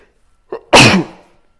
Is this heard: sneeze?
yes